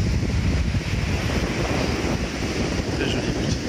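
Strong wind buffets the microphone at a beach while waves wash in beneath it, a loud, continuous roar with no clear breaks.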